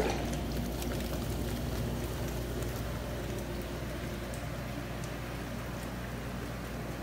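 Jets churn water in a jetted bathtub holding a pink bath bomb, a steady, even rushing and bubbling hiss that stays constant and fairly quiet throughout, with no talk.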